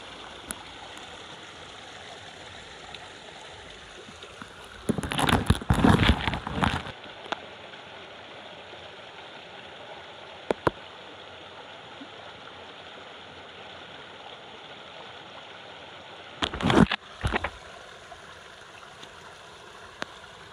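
Steady flowing water from a small stream runs throughout, with a couple of brief louder splashing bursts partway through.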